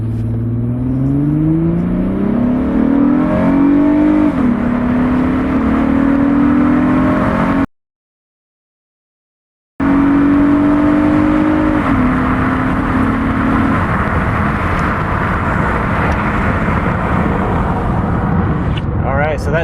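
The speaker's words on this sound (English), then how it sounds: "I'm gonna go ahead and do a 0 to 60 and see if it's improved" Acura MDX SUV from the 2007-2013 generation pulling hard from a stop to 60 mph after new engine mounts, engine note climbing through gears, loud and steady with a short dropout midway, heard from inside.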